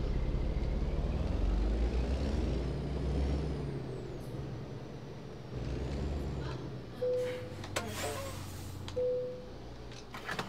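A truck in the American Truck Simulator video game pulling in to a stop: a low engine rumble winds down, followed by sharp hissing air-brake releases and short chime tones near the end.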